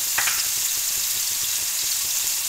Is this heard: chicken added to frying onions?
yes